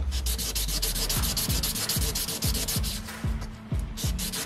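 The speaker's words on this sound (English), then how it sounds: "This is the final sanding stage. You get a nice edge on it." A handmade flat wedding band is sanded by hand in its final stage, a close, loud rhythmic rasping of repeated even strokes, steady throughout.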